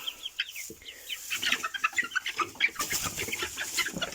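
Hens cluck and chatter in a chicken coop, several birds calling in short overlapping bursts close by, with straw bedding rustling underneath and no speech.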